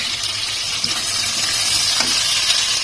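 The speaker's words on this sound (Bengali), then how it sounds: "এইগুলো হালকা একটু ভাজা হওয়ার পরে আমি এর মধ্যে কুচানো একটা পেঁয়াজ আর একটা টমেটো এটা দিয়ে দিলাম" Spices, chopped onion and tomato sizzle steadily in hot oil for a Bengali fish curry, a constant crackling hiss filling the whole stretch with no voices.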